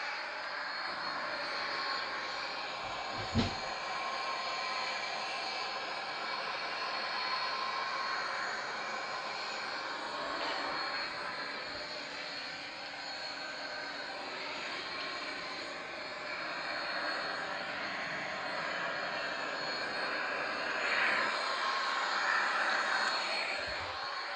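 Boeing 737-800 engines drone in the X-Plane flight simulator during descent toward landing, a steady broadband roar that holds evenly throughout with no talk and one brief click early on.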